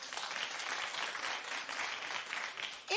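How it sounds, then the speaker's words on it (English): A studio talk-show audience applauding, a dense even wash of clapping that holds steady for a few seconds with no voices over it. "clap if you watched"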